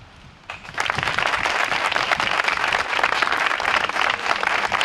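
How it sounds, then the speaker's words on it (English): An audience at a library statue dedication breaks into applause for a donor family after a brief quieter moment, then keeps up a dense, steady round of clapping for the rest. "Please join with me in a round of applause to thank the Brown family for the generous gift to the Saline community"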